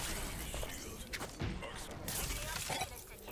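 Gunfire in a first-person shooter video game, a few sharp crashing shots and impacts scattered over a dense, noisy game mix, with a player's voice talking over the action.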